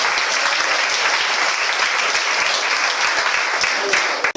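A church congregation bursts into loud, dense applause for Jesus during a service, a continuous close wall of clapping hands that cuts off sharply at the end.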